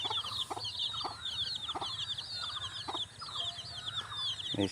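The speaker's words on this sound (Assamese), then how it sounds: "এইজনী চাকচোন পোৱালি লৈ কেনেকৈ আছে" Hen clucking beside her chicks in a village yard, a steady run of close, repeated clucks over soft high peeping from the chicks, with low background rumble throughout.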